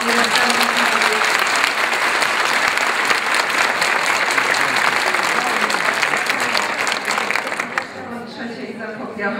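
Audience at an education conference bursts into loud, sustained applause, dense clapping that fills the hall for several seconds before thinning out toward the end.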